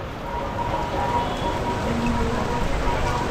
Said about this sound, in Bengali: বাইরে প্রচুর বৃষ্টি